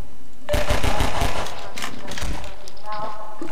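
Rapid automatic gunfire in the Half-Life 2 shooter game, a loud close burst of shots followed by scattered single cracks, with a voice talking over it.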